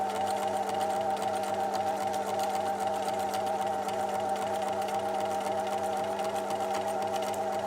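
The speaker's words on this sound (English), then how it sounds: "Sew yourself a nice straight line." A sewing machine stitches a straight line through fabric at a steady, even speed, its motor whirring loud and close without a break or any voice.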